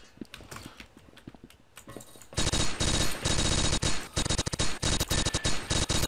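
An MG42 machine gun in Blockade 3D opens up after a quiet stretch, hammering out long, loud, rapid-fire bursts with brief gaps between them.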